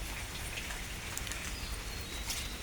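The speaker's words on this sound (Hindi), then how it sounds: "अब थोड़ी हल्की बारिश पड़ गई है भाई" Light rain falls steadily outdoors, an even soft hiss of fine drops with faint patter, continuous and without talk.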